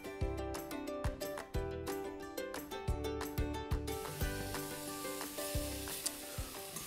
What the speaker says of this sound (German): erstmal das halbe Kilo Schweinenacken brate ich an, natürlich ohne Fett